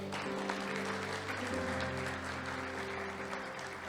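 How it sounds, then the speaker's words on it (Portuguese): Congregation applauding in a church service, a steady dense wash of clapping filling the room throughout, with sustained organ or keyboard tones ringing underneath. "Dá uma glória a Deus, aplaude ao Senhor."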